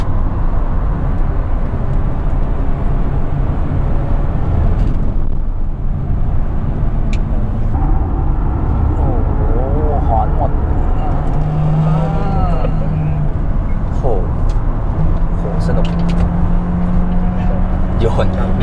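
A Mercedes-AMG GLA 35 driven hard on a race track gives a steady loud engine drone and tyre roar from inside the cabin, with someone talking continuously over it.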